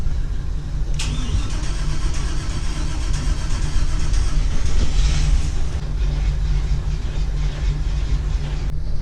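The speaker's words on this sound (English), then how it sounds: "Start the other motor. Check engine number 2. Start that boy up." The number 2 engine of a Meridian 341 boat starts for the first time after six months out of the water, with a brief cranking burst followed by a steady, loud low rumble running continuously nearby.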